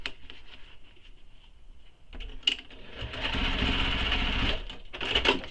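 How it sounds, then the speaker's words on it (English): A sewing machine runs in a short burst then a longer steady stretch, basting a handbag seam open with a few holding stitches; close and moderately loud, with no talking. "I'm just going to add a few stitches so that holds that open."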